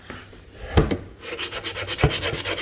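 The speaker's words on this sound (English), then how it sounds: "I always want to go with the grain when you're scraping." Close, rasping strokes of a scraper drawn along a hardwood floor with the grain, several uneven scrapes in quick succession with sharper knocks where the blade catches.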